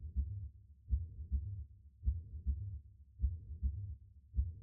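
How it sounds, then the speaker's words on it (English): Heartbeat sound effect in a horror-tinged game stream: low, muffled double thumps repeating in a steady, slightly fast lub-dub rhythm, deep and close with no other sounds. "There's a heartbeat."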